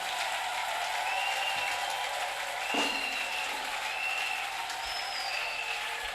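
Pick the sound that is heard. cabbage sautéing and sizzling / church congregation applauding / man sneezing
church congregation applauding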